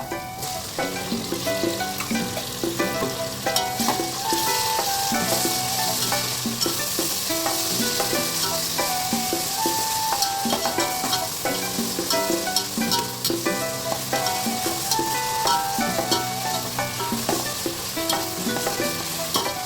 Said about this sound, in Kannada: ಈರುಳ್ಳಿ ಫ್ರೈ ಆಗಿದೆ. ಇದ್ರ ಜೊತೆ ನಾವು ಟೊಮೆಟೊ ಹಾಕೊಳ್ಳೋಣ.